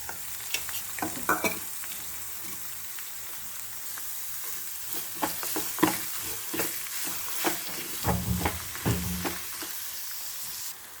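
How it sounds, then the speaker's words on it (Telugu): Grated amla (Indian gooseberry) fries quietly in a pan for amla rice. A soft sizzle runs underneath while a utensil gives irregular stirring scrapes and clacks, with no talking. "ఇప్పుడు మనం ఉసిరికాయ తురుము వేస్తున్నాం."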